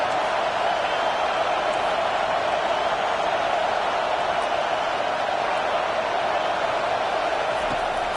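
A large stadium crowd at an American football game roars steadily as the offense is pinned deep in its own end on third and long, a dense, continuous wall of cheering noise with no breaks.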